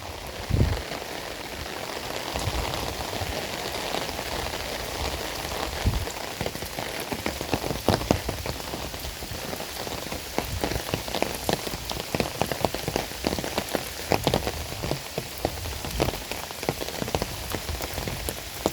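Rain pours and splashes against a surface, a dense steady patter of close drops with sharper spattering hits scattered throughout and no voices.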